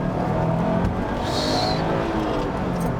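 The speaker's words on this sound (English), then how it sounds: "Get it into second and give it the beans." A Subaru WRX STI accelerates hard in second gear, engine droning loud and steady from inside the car, with a brief high whine partway through.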